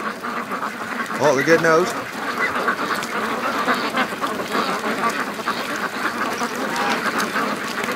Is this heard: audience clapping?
no